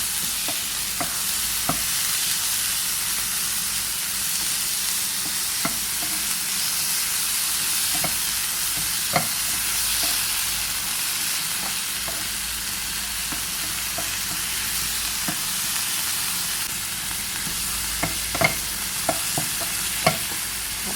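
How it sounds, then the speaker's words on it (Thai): Minced pork stir-frying with chili and garlic in a hot pan, a steady loud sizzle with occasional scraping taps of a spatula throughout, no talking. "ก็รวนหมูสับกับพริกกระเทียม ให้สุกเลยนะคะ ผัดวนไปเรื่อยๆนะคะ"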